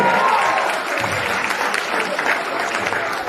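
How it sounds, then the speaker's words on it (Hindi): A church congregation claps hands together in thanks to Jesus, producing a steady, dense wash of applause with a voice faintly present over it, loudest at the start. "तालियां बजाते हुए यीशु को धन्यवाद करें।"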